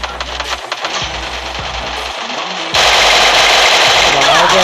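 Automatic gunfire rattles in Rampage Uprising mode of a shooting video game, loud and dense bursts of rapid shots over constant game noise, growing heavier partway through while someone talks excitedly over it.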